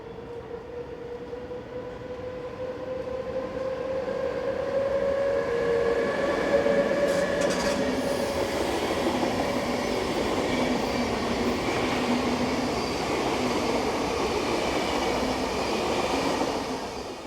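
A Swiss 460-003 electric locomotive rumbles steadily past at close range for the whole stretch, heading south from the platforms, with a faint whining tone and rolling wheel noise, no voices.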